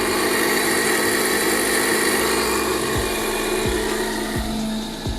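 Heavy duty blender, model ICH-DS7 or KS-10000, running at speed 6, a loud, constant high motor whine and whirring blade roar that holds steady throughout and dips slightly near the end.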